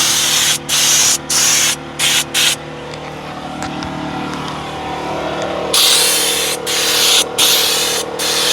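Bursts of Drive Auto Luxe Cockpit Conditioner spraying inside a Kia's cabin: several short, loud hissing sprays, then a longer continuous spray, with a few more quick spurts at the end.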